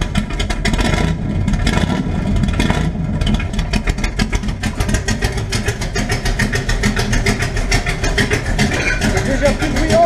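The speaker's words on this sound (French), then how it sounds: "Démarrage cut-out ouvert." A 1969 Dodge Charger V8 with its exhaust cut-outs open starts and runs loud and close, with a rough, lumpy idle and a few blips of revving. Brief talk is mixed in.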